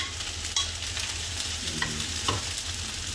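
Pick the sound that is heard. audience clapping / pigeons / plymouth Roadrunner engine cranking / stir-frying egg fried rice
stir-frying egg fried rice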